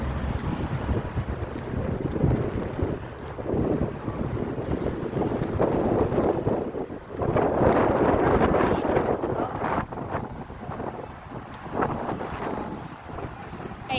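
Strong gusty wind buffets the microphone outdoors on a blustery day, a loud continuous roar that swells and surges, heaviest around the middle, with no speech over it.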